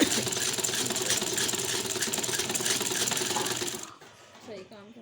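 A domestic sewing machine stitches elastic into trousers with a steady, loud rapid mechanical whir that stops near the end, leaving someone speaking softly.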